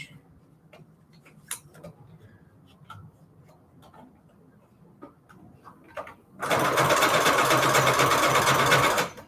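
A sewing machine stitches through paper for junk-journal embellishments, the quiet room filled with scattered small taps and clicks until the needle starts up in a loud, steady, rapid mechanical whir for about three seconds.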